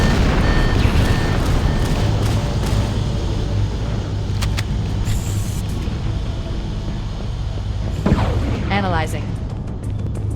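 Explosions and gunfire around a fusion reactor in Halo: Combat Evolved, with deep booming rumbles and sharp bursts over a low engine-like drone, plus a rising whoosh near the end, all fairly loud and close.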